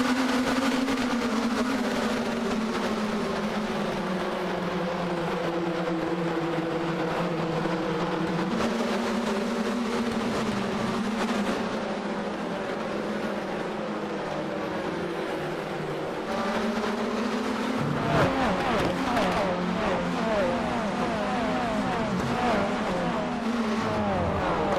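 A field of Corvette C8.R race cars gets the race underway at Lime Rock, their engines droning loudly together with rising and falling pitch as they accelerate and shift, a continuous roar.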